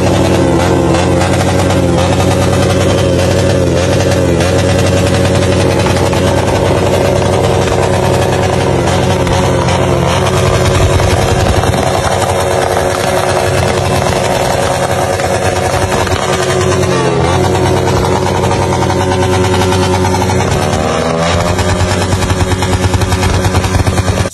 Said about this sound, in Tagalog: Bilang pagsalubong sa taong 2025 ay pinaandar ni Fiang ang kanyang motor